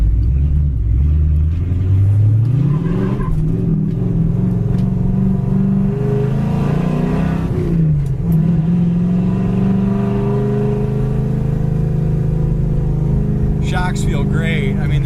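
A 1966 Ford Fairlane 500 XL with a stick shift drives along, its engine droning loud and low, rising and falling through gear changes while someone talks over it.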